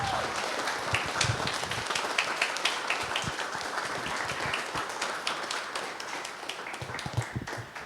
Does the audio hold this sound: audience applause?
yes